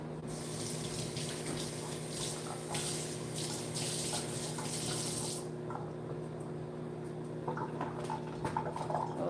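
Warm tap water runs steadily into a sink while hot sausage casing for Northern Thai herb sausage is rinsed, a continuous close splashing stream with brief shifts in flow as the casing is handled.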